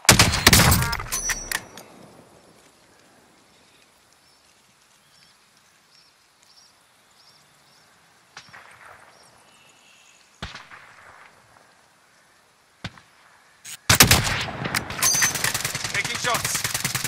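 Gunfire in a Call of Duty Modern Warfare battle royale match, with loud rapid bursts at the start, a few sharp isolated shots in a quiet middle stretch, and heavy sustained firing returning near the end.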